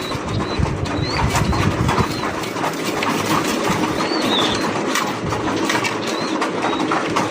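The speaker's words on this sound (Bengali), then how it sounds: "ব্ল্যাক কালারের মুন্ডি ব্রিডিং করতেছে বিশাল বড় সাইজের মুন্ডি কবুতর" Large black Mundi pigeons coo at a breeding farm amid a steady engine-like hum, with a few thin bird chirps breaking through now and then.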